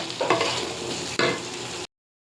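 Potatoes fry in a pan with a steady, close hiss, broken by two louder bursts of stirring and scraping before the sound cuts off abruptly.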